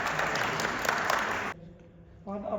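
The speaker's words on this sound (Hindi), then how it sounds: "ताली बजाए।" Audience applause at a Bible quiz on St Mark's Gospel in Bishrampur: dense, steady clapping for about a second and a half that stops abruptly, then a voice begins speaking.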